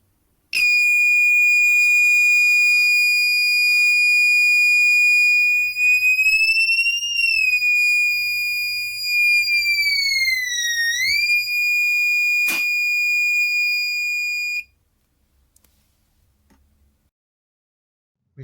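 An active magnetic buzzer driven by an Arduino Nano emits a loud, steady electronic tone whose pitch bends up, then down, as a magnet is brought close and flipped, before cutting off abruptly, followed by a brief click.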